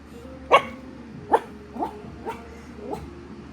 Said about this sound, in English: What kind of bark is that? That's a new little bark.